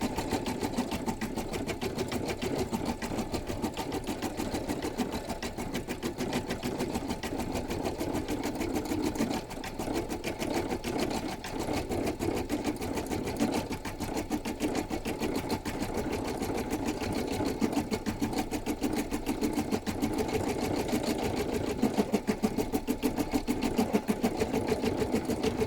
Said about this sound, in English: At the moment the machine's still running at half speed.